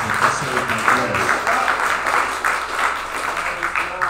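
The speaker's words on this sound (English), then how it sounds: "Clap your hands if you're saved by grace." A church congregation claps hands at a sermon service, a sustained, moderately loud patter of many hands with faint voices mixed underneath.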